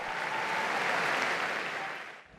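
Warm applause greeting Father Federico Lombardi, former Vatican spokesman, at an audience with Pope Leo XIV, a broad continuous wash of many clapping hands that fades out at the end.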